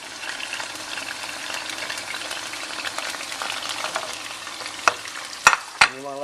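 Eggplant sizzling and frying on high heat in a hot pan, with a continuous close hiss, a few sharp scraping stirs and clinks of a utensil toward the end.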